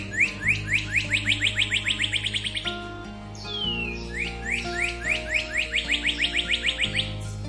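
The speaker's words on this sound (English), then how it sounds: "Cardinals also love to sing" A northern cardinal repeats clear, rapid whistled notes in quick rhythmic series, pausing briefly for a sweeping slurred call before resuming, over a low background hum.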